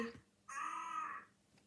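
A crow caws once, a sustained, harsh, nasal call lasting under a second that sounds fairly close, preceded by a brief faint noise and followed by quiet background.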